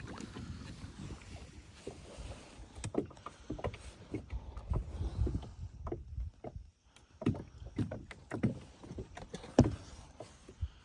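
Kayak moving on water at night while trawling, with irregular paddle splashes and water sloshes close by, a brief quiet lull midway, then renewed splashing.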